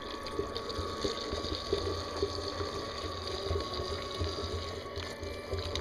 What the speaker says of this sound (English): through the pump, through the counter flow chiller, up through the beer thermometer, or the throughometer, and then down in here and into the carboy